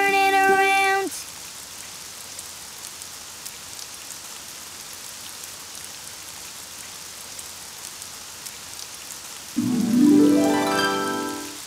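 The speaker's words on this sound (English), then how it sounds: "It's raining outside." Steady rain falling outside, a soft continuous patter, with a tonal musical sound briefly at the start and again near the end.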